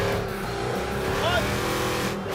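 Muscle truck engine rumbling steadily while slowing in first gear, a continuous close drone with a brief rising whine, with someone talking over it.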